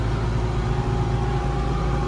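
A diesel tractor engine, a Phantom 3.085, idles steadily nearby with a constant low rumble and mid-range drone throughout, no voices over it.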